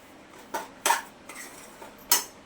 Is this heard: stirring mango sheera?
yes